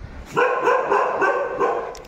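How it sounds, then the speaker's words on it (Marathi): A fierce guard dog at a house lets out a quick run of loud, sharp barks close by, several rapid yaps in a row with nobody talking over them. "हे लय कडक कुत्रे आहे ती"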